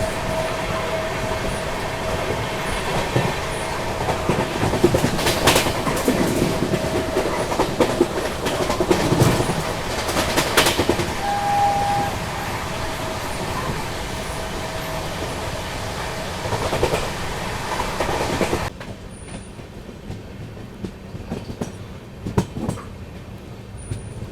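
The Dibrugarh Rajdhani Express runs along the tracks with a loud continuous rumble and rhythmic rail clatter, dropping to a quieter, smoother roll near the end.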